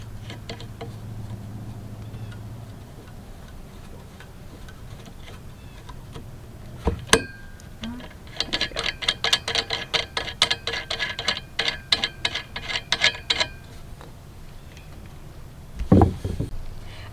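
Eye bolts being screwed by hand into the base part of a Yoleny double egg chair, giving a quick run of close, rapid metallic ticking and clicking in a single burst, framed by a few separate knocks.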